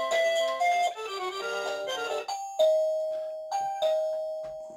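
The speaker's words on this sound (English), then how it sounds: "So now every time you ring this doorbell, this will go off." A HeimVision video doorbell chime plays a bright electronic melody of ringing bell-like notes, loud and close, with a few ding-dong phrases and sustained tones alone.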